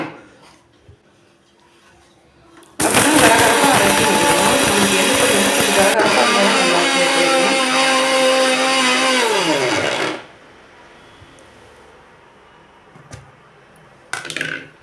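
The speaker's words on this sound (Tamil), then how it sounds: "இதை மிக்சியில் வந்து பல்ஸ் மோடு வச்சு ரெண்டு டைம் நம்ம அரைச்சிக்கலாம்" A kitchen mixer grinder churns sesame seeds in a loud, steady whir of about seven seconds with a brief dip in the middle, then cuts off into near silence before a short clatter at the end.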